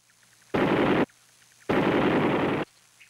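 An M60 machine gun of an American infantry platoon fires two loud, sustained bursts, one short and one longer, separated by a brief pause, with no talking.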